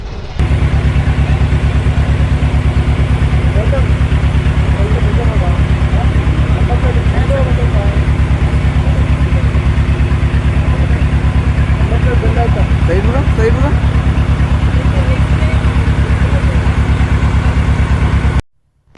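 A boat's engine runs steadily as the boat pulls away, a loud, continuous low drone that holds unbroken for nearly the whole stretch, with faint voices underneath.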